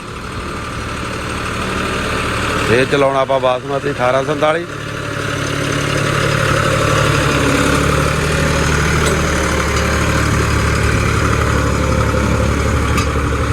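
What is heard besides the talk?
tractor engine running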